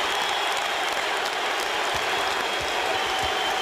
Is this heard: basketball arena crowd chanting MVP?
yes